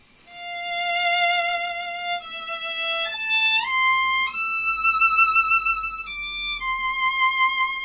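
A violin plays a high-register, operatic passage in a singing style, rising to a sustained high E: long, rich bowed notes stepping upward then settling, heard alone and close.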